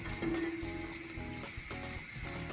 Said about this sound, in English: we're just gonna saute down some onions as per usual, garlic and ginger